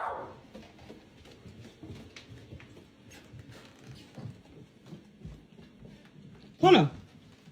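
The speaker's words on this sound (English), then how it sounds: "Stop barking." A dog indoors gives a single sharp, loud bark near the end, after a stretch of low, muffled background rustling and faint sounds.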